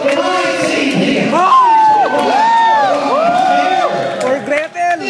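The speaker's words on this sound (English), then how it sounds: "Give me a round of applause for my team here." Crowd cheering and whooping at an outdoor stunt show, loud voices, including children's shouts, rising and falling in excited overlapping calls, with little distinct clapping audible.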